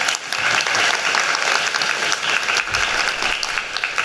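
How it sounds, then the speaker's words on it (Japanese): Audience at a live Ruby programming conference talk clapping, a dense, even burst of applause from many hands that fills the room and stays steady throughout. "オフラインならではの拍手の間とかもありますけれども"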